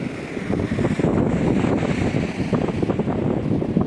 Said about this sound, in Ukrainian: Бачите, задуває вітром і задуває піском.